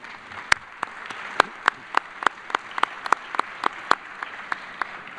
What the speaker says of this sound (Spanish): también lo saludamos con un aplauso